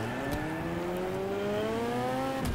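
Car engine in the Next Car Game demolition racing game, a loud steady tone rising slowly in pitch over a couple of seconds, with brief clunks near the start and end.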